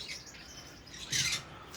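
Several conure parrots that have let themselves out of their cage chirp near an aviary, with bright, short calls and one louder burst of squawky chirping midway.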